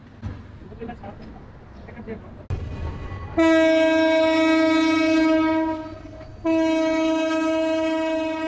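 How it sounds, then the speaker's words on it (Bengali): Jayantika Express leaves Sylhet station bound for Dhaka: low rumbling and clanks of the starting train give way to a loud, sustained horn blast, briefly interrupted and then resumed, close by. "ট্রেন চলতে আরম্ভ করেছে ঢাকার পথে।"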